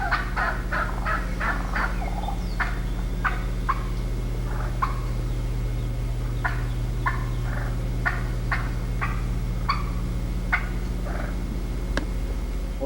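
A hunter imitates an excited turkey hen's cutting call, sounding rapid, sharp clucks in uneven bursts over a steady low hum. The clucks come as clusters with short pauses between them, loud and close, with no talking.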